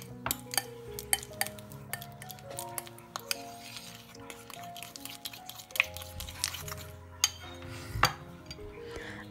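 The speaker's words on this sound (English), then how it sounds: "Add it into a bowl and just mix well until it becomes creamy" Cream cheese and salted cheese being mixed in a bowl: a spoon clinks and scrapes steadily against the dish in quick, irregular taps, close and fairly quiet, with no voices.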